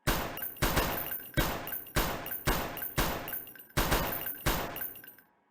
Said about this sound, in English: Let's use it as a submachine gun.